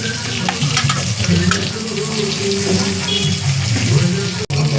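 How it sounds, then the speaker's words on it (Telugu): Food fries in a pan with a dense, continuous sizzle as it is stirred slowly, loud and close, with a few crackles and scraping touches. "మెల్లిగా తిప్పుకోవాలి. కొంచెం ఫ్రై చూడండి"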